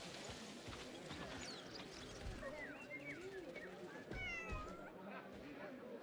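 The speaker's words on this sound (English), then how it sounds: "I heard a cat." A cat meows several times in a noisy outdoor game scene, the brief rising and falling cries partly buried under ambient chatter and background sounds.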